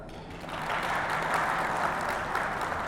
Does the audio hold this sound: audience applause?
yes